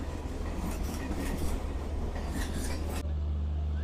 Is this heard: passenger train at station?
yes